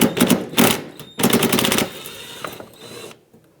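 Ratchet turning out a 10mm screw from the front bumper insert of a 2013-2020 Nissan Pathfinder, heard as close, loud bursts of rapid clicking in two main runs, then fainter scattered clicks.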